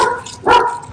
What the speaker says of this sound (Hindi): जोई भौंक रही है कि पापा से दूर रहो।